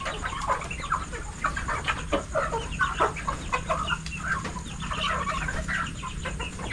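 Several chickens cluck and murmur continuously nearby, short overlapping calls in an uneven chatter over faint background noise.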